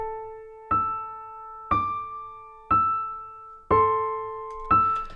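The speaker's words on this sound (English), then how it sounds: "I've got it applied to this piano, which currently sounds like this." Plain, unprocessed piano plays five evenly spaced notes or chords about one second apart, each struck cleanly and decaying before the next. The playing is close and alone.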